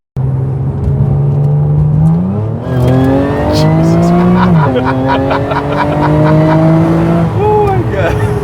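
A 600hp MRA1900 car driving hard on a mountain road, its engine loud and close, revving up through gears in repeated rising sweeps with shifts between them, tires faintly squealing.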